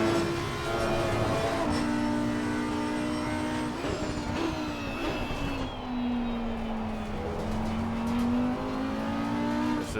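Audi EVO GT3 race car engine at Silverstone in the racing game Assetto Corsa Competizione, revving loudly and continuously with pitch drops as gears shift down, plus faint tire and road noise.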